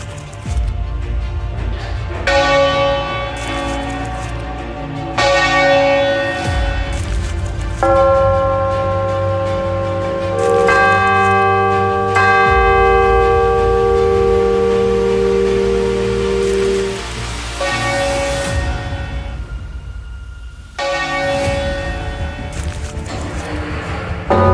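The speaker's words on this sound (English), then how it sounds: "we have so many bells here of so many different types." Large bells ring out in overlapping, sustained tones, struck repeatedly with long resonant decays, loud and reverberant.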